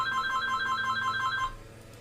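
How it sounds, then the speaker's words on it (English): A telephone rings indoors with a steady repeating electronic trill, fairly loud and alone, the ringing stopping abruptly near the end. "wouldn't you know it, the phone rings."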